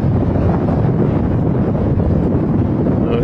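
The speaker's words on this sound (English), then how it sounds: "No, it's the wind that's doing that." Strong wind buffets an exposed spot near a parked car, a loud, steady roaring rush with heavy low rumble against the microphone, continuous throughout with no voices.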